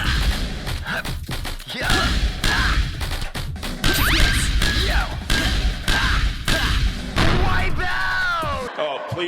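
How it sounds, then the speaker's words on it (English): Lethal League video game sound effects: loud smashes, whacks and thuds come in rapid bursts, with swooping electronic tones and shouted vocal effects across a dense, busy mix. "We can look at Lethal League again for some nice examples of good sound design."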